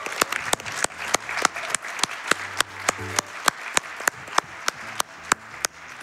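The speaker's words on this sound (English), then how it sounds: "if I could get a round of applause for Attire, that'd be really great." Steady, evenly spaced claps from an audience at the Awesome Games Done Quick 2024 speedrunning event, a rhythmic run of sharp hand claps with a low hum underneath.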